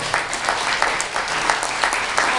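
Applause at an international gathering of retirees, a dense, steady crowd clapping throughout with a few louder claps standing out, close and fairly loud with no speech over it.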